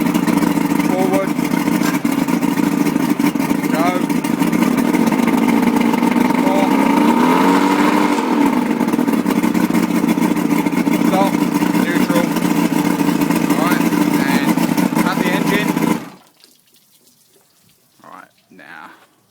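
Outboard motor on a boat running steadily in forward gear, a loud continuous engine drone with water noise that cuts out abruptly near the end, leaving brief faint sounds.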